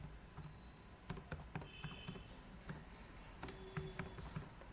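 Soft, sparse keystrokes on a computer keyboard as an IP address is entered on an Ubuntu 22.04 server, quiet clicks at an irregular pace with a few faint beeps and no talk.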